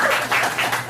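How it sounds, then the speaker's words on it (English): Short burst of audience applause at an open mic night, dense clapping that swells and dips in three quick waves, close and fairly loud. "You can applaud."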